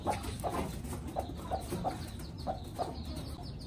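A hen on a rooftop setup clucks in short, regular bursts while drinking water, each cluck fairly close and clear over a steady low background hum.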